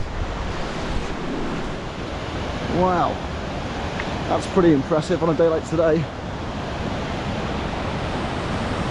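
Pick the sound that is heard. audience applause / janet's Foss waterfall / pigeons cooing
janet's Foss waterfall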